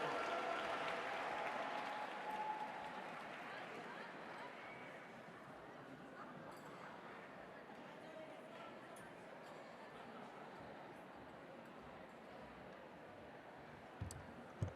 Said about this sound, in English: Let's give a round of applause for the Olympians, for the seniors, and for the spoken word group.